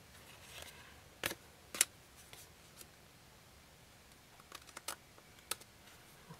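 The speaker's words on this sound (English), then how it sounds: "Now I'm going to trim off these little extra strips that shows." A blade snips thin strips off a handmade card, with a few faint, sharp cutting clicks scattered over a quiet background.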